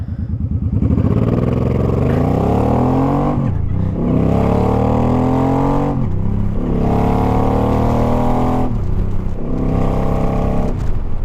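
A motorbike converted to an automatic launches from a stop, its engine rising in repeated loud, close revving pulls with brief drops in between, like quick shifts, and no talk over it.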